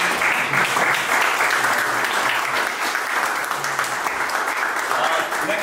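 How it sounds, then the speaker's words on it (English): An audience at a Python programming meetup in Belgrade claps, a dense and steady round of applause that fills the room for several seconds, loud and unbroken, with a faint murmur of voices under it. "So we start off with a slow clap"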